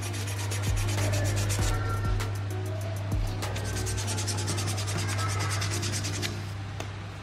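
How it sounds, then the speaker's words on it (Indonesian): A motorcycle piston from a Yamaha RX King engine is sanded by hand with abrasive paper, producing a close, steady scratchy rubbing with repeated strokes over a low background hum. "gua amplas dulu."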